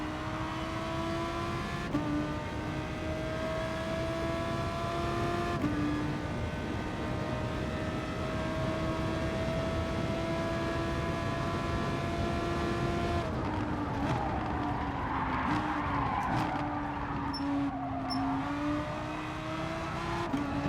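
Race car engine in GT Sport droning loudly and steadily with shifting pitch through gear changes, a continuous near engine note with no talking.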